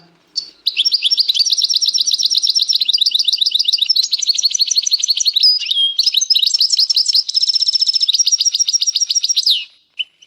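A canary sings alone in long, rapid, high trills of la cadence song, rolling through several varied phrases almost without pause, close and clear.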